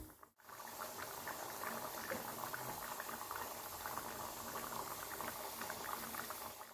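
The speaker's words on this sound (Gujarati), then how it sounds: "થોડુંક વાર આપણે ગેસ ચાલુ કરી પાણીને બળવા દેવાનું" A brinjal and potato curry simmers in a pot on a gas stove, giving a steady, close bubbling hiss that continues evenly throughout, with a brief dip near the start.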